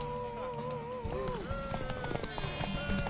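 Rhythmic clip-clop of horse hooves galloping beneath game music and voices in The Witcher 3: Wild Hunt, with a faint whinny.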